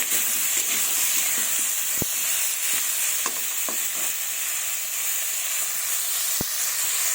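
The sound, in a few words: potatoes frying with turmeric in a pan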